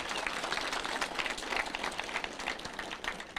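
Church congregation clapping in praise, a fairly steady, moderately loud wash of many hands with no clear individual claps, continuous throughout with little crowd noise.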